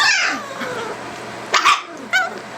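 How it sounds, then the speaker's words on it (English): Entlebucher puppies at play give a few high, sharp yips and short barks amid soft whines and rustling, close by. "Barking again."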